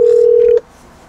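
A phone being dialed to place a call gives a single loud, steady electronic tone lasting about half a second before cutting off to quiet background.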